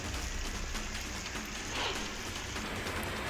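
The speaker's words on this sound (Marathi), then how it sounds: "रत्नागिरीच्या चिपळूण, गुहागर आणि संगमेश्वरमध्ये मुसळधार पाऊस सुरू आहे." Heavy monsoon rain falling steadily in Ratnagiri district, a dense continuous hiss of downpour with no voices, even and unbroken throughout.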